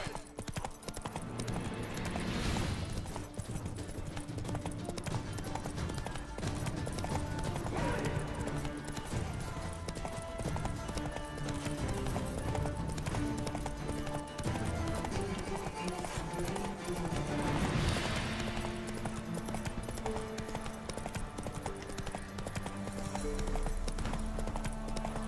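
Steady galloping hoofbeats of a horse in The Witcher 3 roll on continuously and loudly for the whole stretch, mixed with game music and ambience and a few louder surges.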